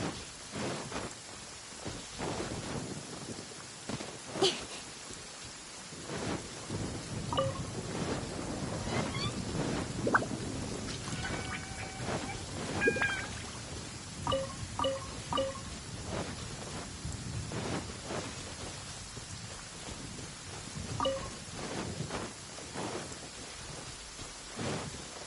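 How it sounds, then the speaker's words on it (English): Heavy rain pours steadily through a storm in Genshin Impact, a dense constant hiss with thunder rumbling at intervals and a few bright chime-like game tones scattered over the downpour. "Quite a downpour. Nothing will get done until it clears."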